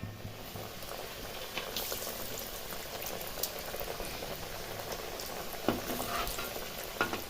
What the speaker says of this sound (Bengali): এইভাবে একই রকম করে সবগুলোকে ভেজে নিতে হবে